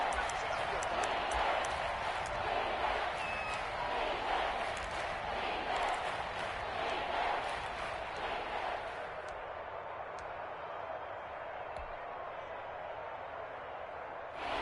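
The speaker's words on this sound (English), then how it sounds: "That just means this crowd's going to get even louder." A steady, roaring video game stadium crowd at an American football game fills the space without letting up, with a commentator's voice faintly audible beneath the din.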